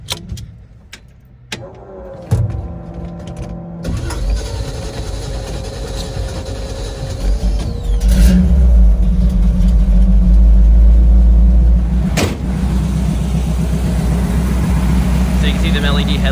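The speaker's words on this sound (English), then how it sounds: "this motor runs really good" A 1956 Chevrolet 3200 pickup truck with a 350 engine starts with a few clicks and a crank, then settles into a loud, steady running rumble close by.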